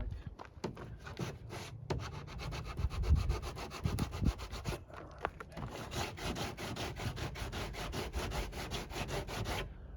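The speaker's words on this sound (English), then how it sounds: "as I sand, I'm starting to sand on the orange" Orange foam and fiberglass on a C8 Corvette body being sanded by hand in continuous rasping, rubbing strokes, close and steady with a few knocks and no talking.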